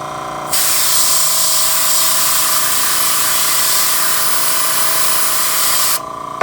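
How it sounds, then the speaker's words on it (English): An airbrush sprays a light gray mist of paint onto an N scale model locomotive during weathering. It makes one loud, steady hiss that runs for several seconds, close by, with no talking. "A little too much paint. I really should get a better airbrush."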